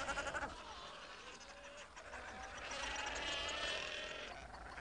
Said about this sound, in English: The cows learn to recognize the call of their pups